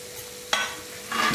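Paneer bhurji is stirred in a pan, giving two short, close scraping strokes of a spoon against the pan with a faint sizzle underneath.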